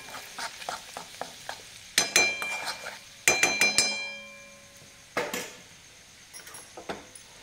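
A spoon stirs red chilli powder and turmeric into a mixture for Kolhapuri-style bhadang, giving light scraping strokes broken by several sharp metallic clinks against the bowl, close and fairly quiet, with no talking.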